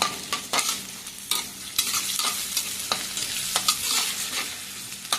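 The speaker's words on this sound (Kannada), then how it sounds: "ಇದು ಚೆನ್ನಾಗಿ ಫ್ರೈ ಆಗಬೇಕಂತೇನಿಲ್ಲ" Ivy gourd and chickpea curry fries in a pan while being stirred, with a continuous bright sizzle broken by frequent scraping spoon strokes and knocks against the pan, close and clear, with no talk.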